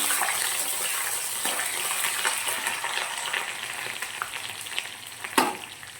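Shallots and ten garlic cloves fry in hot oil for a rock fish curry, a steady close crackling sizzle with small pops and a brief stir near the end, no voices.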